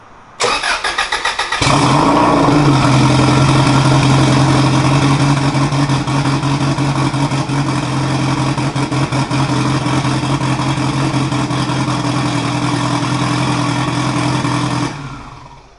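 A Subaru WRX engine with a newly replaced clutch cranks briefly, then catches and runs steadily at a loud, close idle for over twelve seconds before cutting off.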